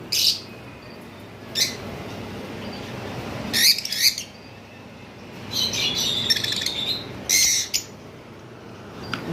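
Lutino opaline split pet birds give short bright chirps in scattered bursts, some clustered into quick runs, over a low steady background hum.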